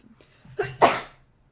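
A single close, loud human sneeze with a short inhaled build-up before the burst, standing alone with no talk over it.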